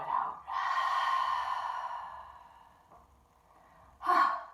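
A long exhaled breath blown out during a yoga breathing exercise, heard as a breathy, sustained outflow near the mic, followed after a pause by a shorter second breath.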